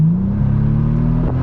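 A 2012 Bentley Continental Supersports ISR sits close by with its engine running, giving a loud, steady, deep rumble whose pitch drifts slightly upward and holds.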